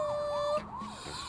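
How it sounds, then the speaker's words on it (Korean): A police car siren wails in rising and falling sweeps, fairly clear with no talking, its tone shifting midway into a slower, lower wail. "난 이 경찰차 사이렌 소리가 너무 좋아."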